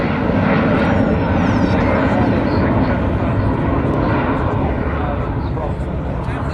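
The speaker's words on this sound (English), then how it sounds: "So Jonathan Lazari, the AEO, is opening the bomb bay as she goes by." An Avro Vulcan bomber passes with its bomb bay opening, a loud, steady jet roar that fills the clip for its whole length, broad and rumbling with little change in level.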